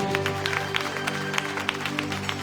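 A church congregation claps during a Palm Sunday service, crisp, rhythmic claps over a sustained keyboard or organ tone, fairly close and even in level.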